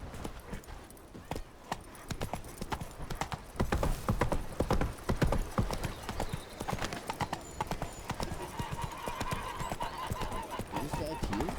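Roach, a horse in The Witcher 3 video game, gallops with rapid, loud hoof clip-clops that build to a fast pounding rhythm. Voices and game sounds are heard intermittently alongside the hooves.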